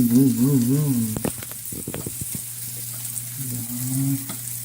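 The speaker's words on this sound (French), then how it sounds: "On vient ici, champignons qui cuisent." Mushrooms sizzle in a pan while a chicken-with-mustard dish is cooked, a steady frying hiss punctuated by a few stirring clicks, with a low humming voice near the start.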